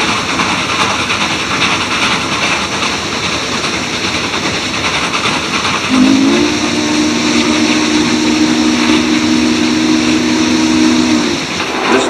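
A steam locomotive hauling Daylight passenger equipment roars past, with loud continuous exhaust and a long steady whistle blast that starts midway and holds for several seconds before cutting off.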